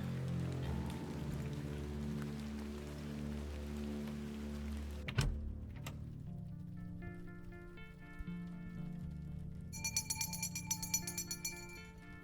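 Rain falling in the video game The Excavation of Hob's Barrow, a soft steady patter under quiet ambient game music, with a brief sharp knock partway through and brighter tonal chimes near the end.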